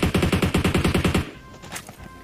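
Rapid automatic gunfire in a battle royale shooter, a fast burst of about a dozen evenly spaced shots for over a second, loud and close, followed by quieter scattered shots and game noise.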